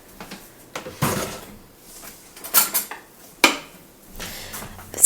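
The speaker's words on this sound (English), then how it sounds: "first I just kind of stick a knife down the sides." A knife scrapes and clinks around the sides of a banana bread pan in a kitchen, a handful of separate metallic scrapes and taps heard up close with quiet pauses between them.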